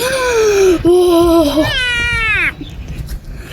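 Several drawn-out Minecraft cat meows in quick succession, loud and close, the last one rising and bending into a whiny wail.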